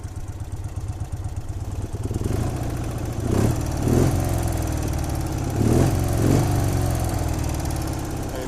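A 1965 BMW R50/2 motorcycle with a boxer engine, just kick-started and idling nearby, a loud steady rumbling tick-over with a few gentle rises in revs.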